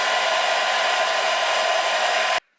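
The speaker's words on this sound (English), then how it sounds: "you take the hairdryer and you heat up the sticker so that the glue melts and it just peels away" A hair dryer blasts steadily and close for over two seconds, heating a sticker on a bicycle to loosen its glue, then cuts off abruptly into near silence.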